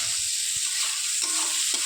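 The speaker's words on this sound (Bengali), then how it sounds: "লবণ হলুদ দিয়ে ভালো করে এটাকে কষিয়ে নেব।" A fish head sautés in a pan with salt, turmeric and finely diced potato, a brief steady sizzle with scraping stir sounds close by.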